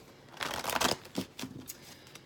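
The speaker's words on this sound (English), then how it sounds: "I'm going to start shuffling the cards" Tarot cards being shuffled by hand: quiet, close papery riffles and slides in short uneven bursts, with no talking.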